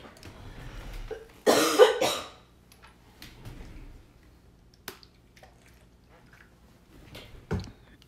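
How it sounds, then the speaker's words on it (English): Two harsh, close coughs come in quick succession, followed by quieter throat noises and a final short cough after a pause. "I'm going to try to cough and clear this up"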